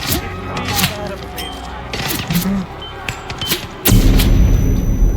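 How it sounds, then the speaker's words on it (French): Gunfire in the video game Hitman World of Assassination rings out as several sharp reports and booms, a few in quick succession, followed by a heavy rumbling layer of game sound; a voice is faintly present. "Mais ça me tire d'où?"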